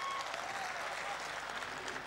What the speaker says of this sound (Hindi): बस एक बार पूरो सदन जोरदार तालियां बजाओ,